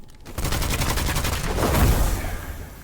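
Rapid automatic gunfire from a gun in the video game Witchfire rattles out in a fast, even burst of shots lasting over two seconds, loud and close, with a heavier low thump near the end.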